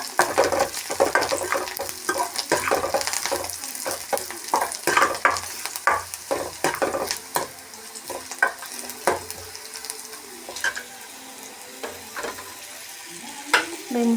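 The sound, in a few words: food frying and being stirred until lightly browned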